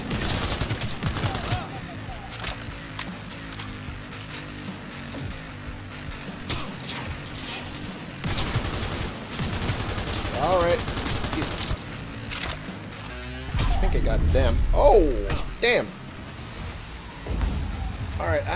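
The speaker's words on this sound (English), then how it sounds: "Getting shot at from other people I can't even see." Gunfire in the video game Cyberpunk 2077, with scattered bursts of shots and loud impacts through the scene, heaviest toward the end, while someone talks over it.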